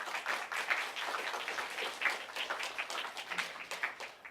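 A School of Visual Arts audience applauding the event staff at a talk with Blue Sky Studios members about Rio, a fairly quiet, steady patter of many hands clapping with scattered sharper claps, heard at some distance.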